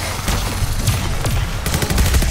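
Gunfire in Call of Duty Vanguard Zombies on the Shi No Numa map: a few sharp shots and then a quick run of rapid cracks over a steady, dense game background.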